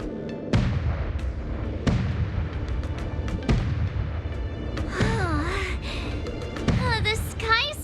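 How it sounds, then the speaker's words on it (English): In a video game, the Sky Splitter fires its gun salute: loud booming blasts at roughly even intervals, each ringing out and decaying, followed by crackling, whistling firework-like bursts, with a voice speaking over parts of it. "The Sky Splitter's gun salute is really loud."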